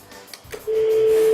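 A single steady telephone tone sounds clearly for about a second after a brief click, heard on its own at the end of the call setup.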